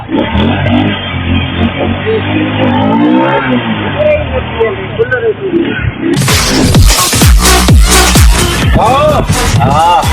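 A car engine revving hard during a race, a loud roar that climbs and falls in repeated surges, close by and mixed with people talking and shouting.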